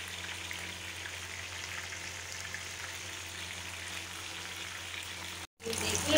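Chicken tikka frying on a large tawa gives a steady, dense sizzle with a constant crackle throughout, broken by a brief cut to silence near the end before the sizzle resumes louder.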